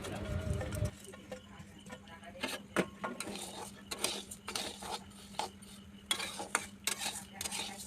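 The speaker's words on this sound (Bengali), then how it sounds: "মা চাল ভাজছে" Rice dry-roasts in a hot wok (kadai) over a gas flame, giving soft intermittent scraping and clinking of a stirring utensil, with quiet gaps between strokes and a low hum underneath.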